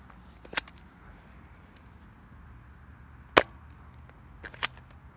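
Nerf N-Strike Modulus Barrelstrike blaster firing foam darts: a few sharp, separate pops spaced over several seconds, one louder shot in the middle and two closer together near the end, against quiet background.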